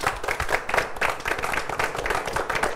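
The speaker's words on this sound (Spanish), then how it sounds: "Un aplauso." A crowd claps steadily in a dense, continuous burst of applause, close and fairly loud, with no talking over it.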